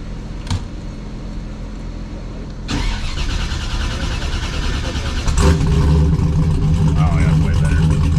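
A shop truck's engine cranks over and fires up on a dyno, settling into a loud, steady running note that swells a few seconds later as the revs climb; people talk nearby over it.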